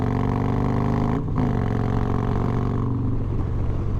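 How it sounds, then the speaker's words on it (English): A Harley-Davidson Road Glide motorcycle fitted with S&S 475 cams accelerates hard, its loud V-twin drone rising in pitch and pausing briefly for a gear shift before pulling on, close and steady with no voices. "Another road glide getting at it."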